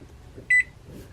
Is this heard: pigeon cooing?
no